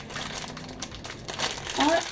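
A plastic bag of pasta crinkles loudly and continuously up close as it is squeezed and popped open, with a sharp crackle near the end.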